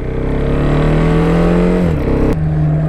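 A 2014 KTM Duke 690 single-cylinder motorcycle pulls hard with a loud, close engine drone whose pitch climbs, dips at a quick seamless shift, and resumes, with no talking over it.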